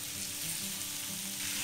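Bacon frying in clarified butter in a pan, a steady, faint hiss and crackle of sizzling fat that runs without a break, with no voices.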